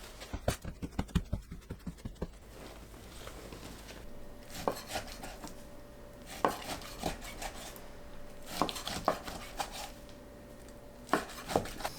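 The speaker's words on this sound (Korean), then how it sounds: "삼겹살 핏물 닦아내고 3cm 너비로 썰어주세요." A knife cuts pork belly into 3 cm wide pieces on a cutting board, giving a quick run of close, sharp chopping taps at first and then scattered, spaced knocks with soft scraping between them.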